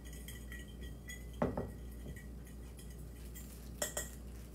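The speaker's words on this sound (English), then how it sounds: "I'm going to take a fork, just kind of whisk that around." A fork whisks a teaspoon of salt and two teaspoons of pepper around a dish, giving a few faint metallic clinks and scrapes, two small clusters standing out against a quiet room hum.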